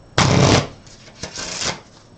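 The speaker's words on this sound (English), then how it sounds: "we shuffle up the deck with realistic shuffling effects" Card shuffling effect from the One Deck Dungeon video game: a loud, close riffle burst followed by a quieter second riffle, with no voices.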